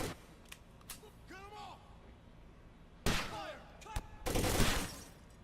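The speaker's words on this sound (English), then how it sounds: "That is a sniper rifle." Sniper rifle fire in the tactical shooter Takedown: Red Sabre, a few sharp cracks and bursts with loud echoing blasts near the end, set among quieter in-game noises and brief tonal sweeps.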